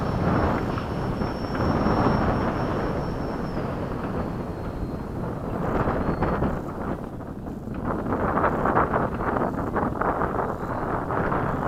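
A Freewing 80mm F-5 RC model jet on landing on a breezy day, a steady close turbine-like whoosh and roar mixed with heavy wind buffeting on the microphone throughout.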